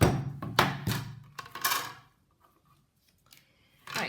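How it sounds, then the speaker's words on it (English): A die cutting machine presses a circle framelit through card stock in a few sharp crunching, clacking bursts, close by, followed by near silence and another short clatter. "Add the top standard cutting pad and then die cut it out."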